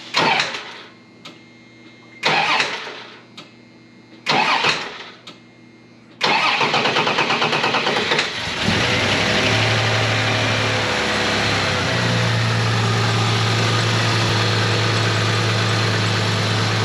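A Dodge Dakota convertible with 97,000 miles, recovered from a flood and with its belts removed, cranks in three short bursts, then fires and settles into a steady, loud idle close by.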